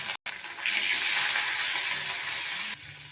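Spices with chopped tomato, dried chilli, black mustard seeds and bay leaves sizzle loudly in a pan for sambar dal, a continuous close frying hiss that swells after a brief gap and eases near the end.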